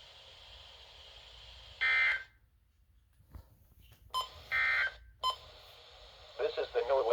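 Emergency alert tones from a NOAA weather radio broadcast, several loud steady electronic tone bursts separated by short gaps, with static and a voice talking near the end.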